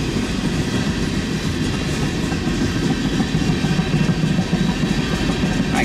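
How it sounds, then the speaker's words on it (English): Norfolk Southern eastbound manifest freight train NS14M rolling past close by, a steady loud rumble of wagons with faint clickety-clack throughout, no voices. "Eastbound freight manifest train."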